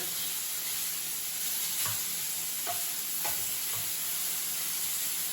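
Chicken sears in a single pan on a camp stove, a continuous bright sizzle with a few soft utensil knocks and stirs, close up, with no talking.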